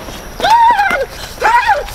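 A person imitates a horse's whinny twice, drawn-out wavering neighs close to the mic with brief pauses between.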